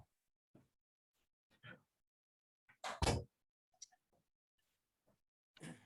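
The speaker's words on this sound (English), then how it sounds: "I'm going to shut the door just a second." A door is shut indoors, heard as a few scattered handling clicks and shuffles, then a sharp, fairly loud thud near the middle, followed by quiet and a later rustle.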